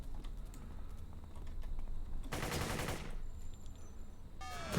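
Rapid automatic turret fire in City of Heroes, faint and crackling, with a short dense burst in the middle of quieter scattered clicks and shots.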